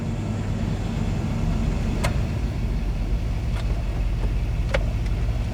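A car engine with a 4T65E automatic transmission shifted manually by joystick hums at a steady low drone, near and constant, with a few faint clicks over the top.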